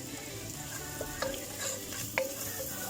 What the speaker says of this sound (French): Après, je remue encore.